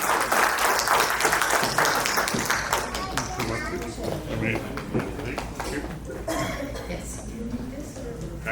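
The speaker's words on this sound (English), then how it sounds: "please give a round of applause" Audience applause fills a tech seminar hall, loud and dense at first, then thinning into scattered claps that trail off under the background.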